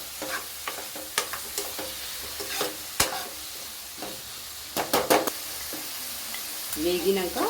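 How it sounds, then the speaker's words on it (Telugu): Chicken pieces frying in spiced oil under a steady sizzle, with repeated scraping strokes of a spoon stirring the pan and occasional clinks, close and fairly loud. "చికెన్ వేసుకొని మంచిగా మసాలాలు పడేటట్టు ముక్కలకి వేయించుకోవాలి."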